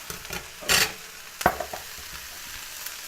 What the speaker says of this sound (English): I'm going to add the sausage to the pan now, and our spices.